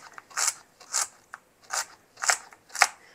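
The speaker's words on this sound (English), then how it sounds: "Put them in a nice pile and give them a dice" A knife dices celery ribs on a cutting board in a rhythmic series of crisp, crunchy chops, about one every half second, close and moderately quiet with no speech.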